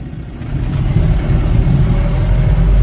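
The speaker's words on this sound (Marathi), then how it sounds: "हे लोकेशन अशा ठिकाणी आहे ना, वरतून एकदम गाड्या सुसाट निघतात" Traffic on a road overhead rushes past in a steady, loud low rumble of engines, a continuous wash of passing vehicles with no speech.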